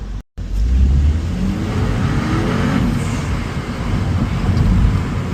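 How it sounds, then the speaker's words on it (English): A MINI Cooper Convertible's small turbocharged three-cylinder engine revs hard and steadily in sport mode, heard from inside the cabin, a loud low drone with a faint turbo whistle rising over it. "Hear the turbo noise from what I think it's a 3-cylinder engine"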